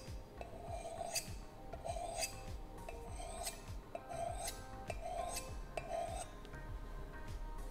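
A knife blade is sharpened on the unglazed rim of a ceramic coffee cup, giving a series of about seven even, rasping scrapes at a steady rhythm, close and fairly quiet with no voices.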